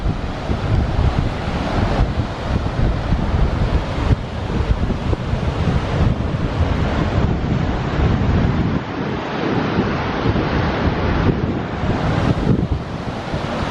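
Gullfoss waterfall in Iceland roars in a steady, dense wash of water noise, with wind buffeting the microphone throughout and no voices.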